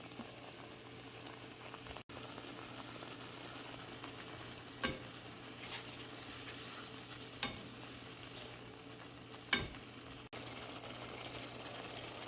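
Sauce, cheese, ground beef and pasta are mixed together in a pan for a hamburger pasta, a quiet bubbling simmer with a few isolated spoon clinks and scrapes, faint and close, no one talking.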